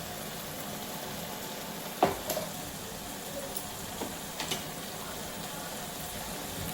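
Amaranth leaf curry with salt and turmeric simmers in a pan, giving a soft, steady low bubbling and sizzle throughout, with a few faint clinks near the middle.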